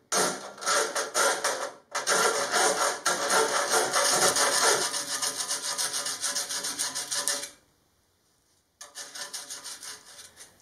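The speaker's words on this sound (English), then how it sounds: "Next step is some filing, but I'll finish with some 80 grit sandpaper." Sandpaper of 80 grit rubs over a wooden ring in rapid back-and-forth strokes, close and fairly loud for most of the span, stopping for about a second, then resuming more softly.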